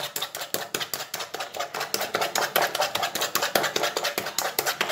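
Eggs for marble cake batter beaten by hand in a bowl, a fast steady rhythm of whisk strokes clicking and tapping against the bowl, close and continuous.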